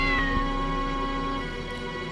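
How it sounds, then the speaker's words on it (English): Cat meowing in the video game Unlimited Saga: a sustained, tonal mew stretched across about two seconds, steady and fairly loud over a bed of game music, with a brief knock near the end. "There's a kitty."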